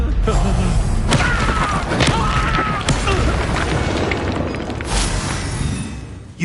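Confringo blasting spells explode in a video game, several loud booms and thuds crashing in quick succession over a dense, noisy battle bed with voices underneath.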